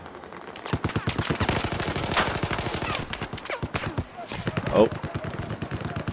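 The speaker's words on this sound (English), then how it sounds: "Getting fucking shot at." Rapid automatic gunfire from the video game Battlefield 4 rattles in dense bursts nearly throughout, with a short pause and a brief exclamation from a player partway through.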